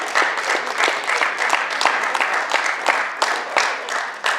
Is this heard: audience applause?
yes